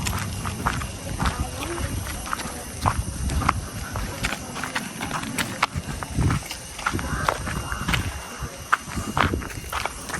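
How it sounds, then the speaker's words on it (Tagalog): Horse hooves clip-clop in an uneven rhythm on hard ground while people talk nearby and outdoor noise fills the background. "Kabayo mga idol, may kabayo."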